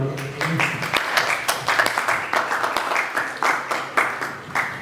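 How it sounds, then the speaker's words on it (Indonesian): At a village youth organisation chairman candidates' debate, a small audience claps for both candidates, a loose, uneven run of individual hand claps with sharp distinct strikes, fairly close and moderately loud. "Kasih tepuk tangan untuk kedua."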